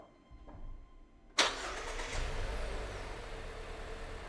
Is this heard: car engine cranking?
yes